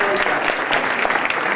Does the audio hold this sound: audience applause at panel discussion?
yes